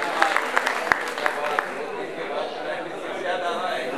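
Applause for a dancer called to the stage at a music and dance function, with a burst of distinct claps that fades into crowd chatter and murmuring voices in a busy hall.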